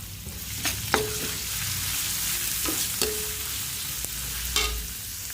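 Onions frying in a pan with garlic already browned, giving a steady close sizzle broken by a few sharp scrapes and clinks of a spatula, with no talking.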